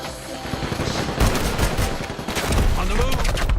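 Machine gun fire in the video game Combat Champions: loud, rapid bursts of automatic shots that rattle on with a few brief pauses, with a voice faintly in the mix.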